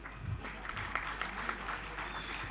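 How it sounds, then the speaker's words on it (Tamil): Audience applause at a Tamil film event for the film Kettavanu Per Edutha Nallavan: a dense, steady patter of many hands clapping that holds for the whole short stretch, with some faint voices mixed in. "தயவு செஞ்சு நீங்களே ஒரு தடவை கைத்தட்டிடுங்க"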